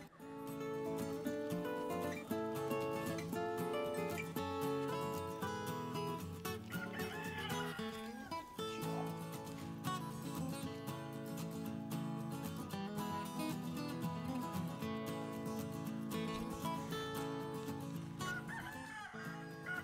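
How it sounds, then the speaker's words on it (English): A barnyard flock of chickens clucking and a rooster crowing, busy overlapping calls that run throughout, set against a dense, continuous tonal backdrop that stays loud the whole time. "all the chickens are just being loud today"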